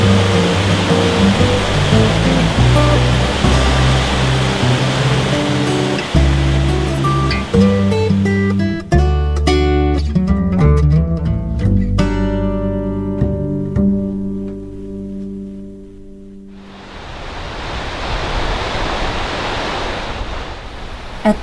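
The Fall River rushes through a small canyon in Rocky Mountain National Park, a loud, steady roar of water, partly overlaid by a stretch of music in the middle, before the rushing water returns alone.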